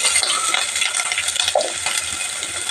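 Onions, green chillies and carrots sizzle in hot oil with a bay leaf for biryani, giving a close, loud, steady crackle with an occasional stir or clink.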